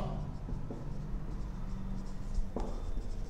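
Pen writing on a board or paper during a maths lesson, a soft continuous scratching with a few light taps, close and fairly quiet over steady room noise.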